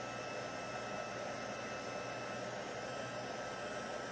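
A handheld heat tool blows hot air to shrink and crinkle a decoration on a rustic Christmas card, giving a steady, close, even whoosh of airflow that runs unbroken throughout.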